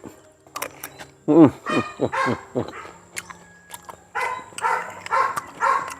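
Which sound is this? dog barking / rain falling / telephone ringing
dog barking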